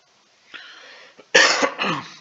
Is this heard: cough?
yes